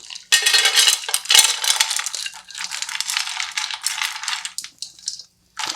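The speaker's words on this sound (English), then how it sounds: "I'm going to add my nuts." Nuts for granola are poured into a pan warming over low heat, making a loud, close rattle and clatter that runs for several seconds and then trails off in short bursts.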